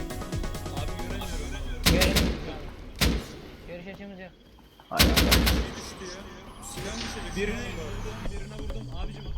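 Gunfire in the survival video game Rust: two loud bursts of shots stand out among other game noises, while players talk over the action.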